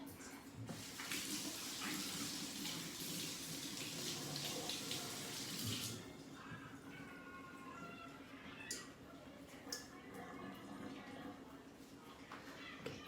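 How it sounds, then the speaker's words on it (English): Hands washed under a running kitchen tap after flouring steak: a steady, close rush of water for about six seconds, then the flow stops, leaving faint clinks and handling noises. "Wash my hands."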